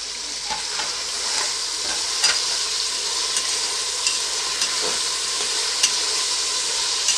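Tomatoes sizzle and fry steadily in a pan over a high flame while making vegetable pulao, a constant crackling hiss broken by occasional scrapes and stirs.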